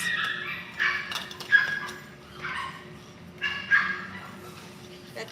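Yorkie puppies about three to three and a half months old give several short bursts of high yips and barks, spaced through the clip at moderate distance.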